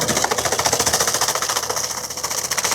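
A Farmtrac 6055 WorldMaxx 4WD tractor, 55 HP, drives a fan-type banana shredder in a field, giving a loud, steady mechanical drone with a rapid, pulsing knock throughout and no talk.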